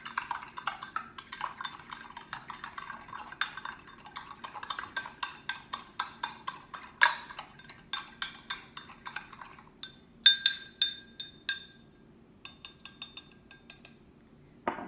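Metal spoon stirring chocolate milk in a glass, clinking rhythmically against the sides in quick repeated taps, close and clear, with a brief pause of ringing chimes partway through.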